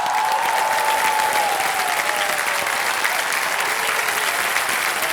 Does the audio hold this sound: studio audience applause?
yes